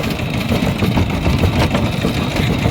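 An i-taek, a small Thai farm tractor vehicle, runs its engine close by with a loud, continuous rattling chug that stays steady and dense throughout, with no voices.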